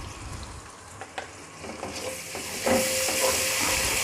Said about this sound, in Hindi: 1 से 2 मिनट के लिए हम इसको भून लेते हैं ताकि इसका भी जो रॉ स्मेल है ख़त्म हो जाए लहसुन अदरक की।